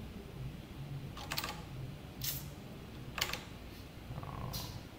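Keyboard typing while coding a JSP board page, a few separate bursts of quick keystrokes, close and moderately quiet, with no talking.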